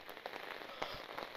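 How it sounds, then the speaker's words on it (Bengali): Rain falls near Khandadhar waterfall in a forested spot, a steady, faint hiss with scattered patter of drops on surfaces throughout. "আর বৃষ্টি পড়ছে"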